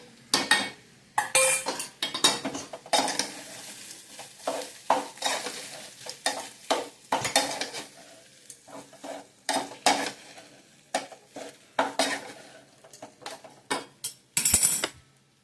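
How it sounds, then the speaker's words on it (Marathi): Sabudana khichdi being stirred in a pan (kadhai), with repeated scraping and clinking of a spoon against the metal over a soft sizzle, in irregular bursts close by with no talking. "हलवून घेऊया."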